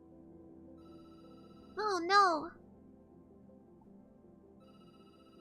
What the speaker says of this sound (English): The phone is ringing in the game.